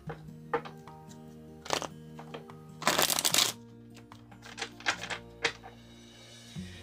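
A Light Seers Tarot deck being shuffled by hand: scattered card clicks and taps, then a loud riffling burst in the middle, followed by lighter flicks, with soft background music underneath.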